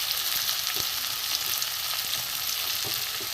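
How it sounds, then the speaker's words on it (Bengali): Chopped onion and green chillies fry in a pan for a dhaba-style egg tarka, a steady, fairly faint sizzle with a few light clicks of stirring. "এবার দেবো কাঁচা লঙ্কা কুচি,"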